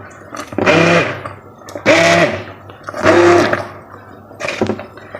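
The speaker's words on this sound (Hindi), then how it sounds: "बहुत ही काम की चीज़ है ये ब्लेंडर।" A kitchen blender whirs through boiled spinach for a potato-and-spinach dish, four loud motor bursts of about a second each with short gaps between, the last one briefer.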